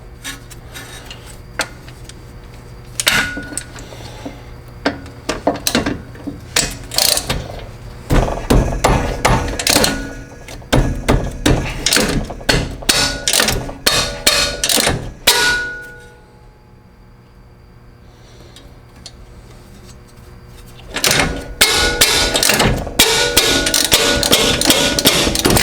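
Metal wrench and tool clangs while breaking loose red-Loctited coilover bolts on a BMW E36, loud repeated bangs and ratcheting in bursts, a quieter pause midway, then dense clattering resumes near the end.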